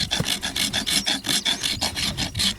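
A Radius Rasp 2 Pro foot file rasped against a foot in quick repeated strokes, about a dozen crisp, close scraping passes in a steady back-and-forth rhythm with no talking.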